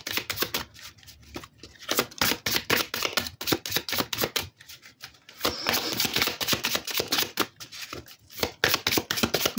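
Several oracle cards shuffled by hand at a full-moon reading, making a steady, close run of crisp riffling flicks and slaps with brief pauses between bursts.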